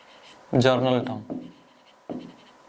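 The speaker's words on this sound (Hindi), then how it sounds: "सबसे पहले हम यहाँ पे लिखते हैं अपनी जर्नल टर्म" A marker writes a general-term formula on a classroom board in a few short, squeaky strokes: one longer scrawl, then brief taps and touches, fairly close and clear.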